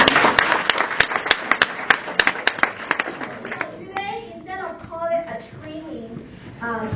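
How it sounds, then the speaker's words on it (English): An audience at a team-building seminar claps for about three seconds, with sharp, distinct claps standing out, before the applause fades and a voice takes over. "Let's give ourselves a round of applause."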